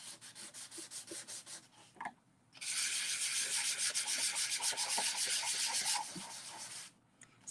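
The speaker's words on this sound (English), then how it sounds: "I'm not trying to talk over all this sanding" Close, steady hand sanding of scrapbooking paper: a rhythmic scratchy rubbing, briefly pausing, then resuming with harder, continuous strokes before easing off.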